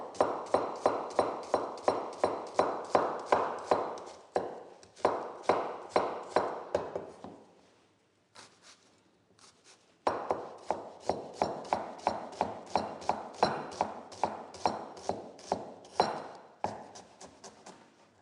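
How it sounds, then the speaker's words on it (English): An onion chopped with a knife on a board for Nepalese momo filling, a steady run of crisp, close taps that pauses briefly midway, then resumes in an even rhythm. "Chop the onion."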